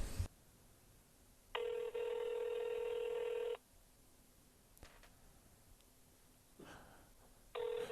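Telephone ringing over a quiet line during a prank call: two long electronic ring bursts with a short silence between them, then a third ring beginning at the end, with soft line hiss in the gaps.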